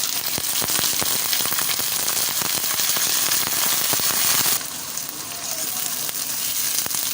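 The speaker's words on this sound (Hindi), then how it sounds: "गोश्त को अच्छी तरह भून लेंगे" Chicken pieces sizzle and crackle steadily in a hot pan with oil and browned onions for a Pakistani-style okra and meat curry, close and loud, with the sizzle briefly softening near the end.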